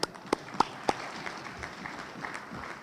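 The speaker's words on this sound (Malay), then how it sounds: "kita berikan tepukan gemuruh kepada mereka semua" A few sharp, separate claps ring out at a national party congress for the election winners, then settle into a softer, steady patter of applause from the hall.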